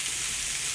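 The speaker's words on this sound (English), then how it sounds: "you saute these until the carrots have started to cook" Carrots sautéing in a pan for a beef sausage casserole give a steady, close, bright sizzle with no break, heard alone.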